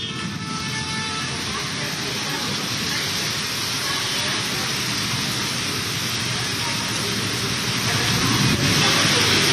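Heavy midday rain in Kolkata pours in a steady, dense hiss that fills the whole stretch, with a faint murmur of voices or traffic underneath.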